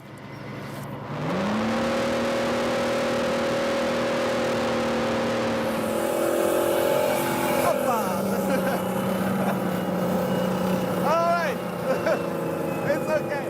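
M113 armored vehicle with a six-cylinder gasoline engine starts moving: a loud, close engine drone rises in pitch and settles into a sustained growl, with rattling and clatter from the bumpy ride.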